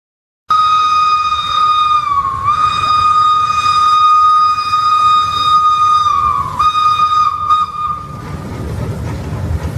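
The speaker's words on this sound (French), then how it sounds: "Elle représente le son du sifflet à vapeur d'une loco et le bruit du train qui roule." A long, loud steam locomotive whistle with rich harmonics blows almost continuously, dipping briefly twice, over the low rumble of a rolling train that grows toward the end, played from a recordable sound chip card.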